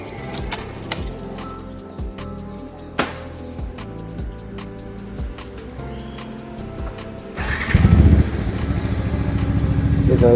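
A motorcycle engine idles with a steady low rumble, then revs up louder near the end, accompanied by small clicks and rattles.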